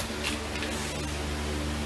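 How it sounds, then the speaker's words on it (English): Steady broadband whooshing hum of a fan running continuously, close and fairly loud, with no speech over it. "Pardon the fan noise in my redneck paradise"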